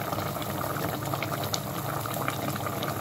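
A covered pot of sweet potato soup with long green chili bubbles at a steady, dense boil, close and continuous with no talking.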